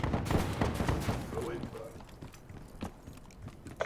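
Shotgun blasts in the Call of Duty: Black Ops III video game, several rapid shots crowding the opening second of mixed game noise with a voice talking over the action.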